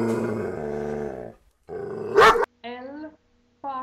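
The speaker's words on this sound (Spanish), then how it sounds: "El perro." A farm dog growls low and then gives a few sharp barks, close and fairly loud, with short gaps between the sounds and no speech.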